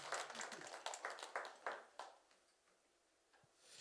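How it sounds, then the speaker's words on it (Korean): A church congregation claps during a worship service: a burst of hand claps over about two seconds, faint and somewhat distant, fading to quiet with a few scattered claps afterward. "우리 하나님께 영광의 박수로"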